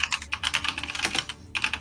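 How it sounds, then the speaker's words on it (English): Rapid typing on a computer keyboard during a tabletop fantasy role-playing game session, with close, steady keystroke clatter in quick bursts and a short pause before it resumes. "typing an essay to it"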